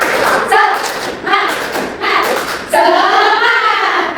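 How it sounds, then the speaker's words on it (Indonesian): Children in an Indonesian classroom perform the tepuk semangat clapping routine, a rhythmic sequence of hand claps and thumps delivered in bursts, with voices chanting along over it, loud and close. "Tepuk semangat."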